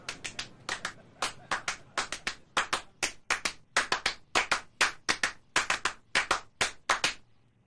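Two people perform a clapping piece, crisp, close hand claps in tight repeating interlocking patterns, steady and dry, continuing for several seconds without talk.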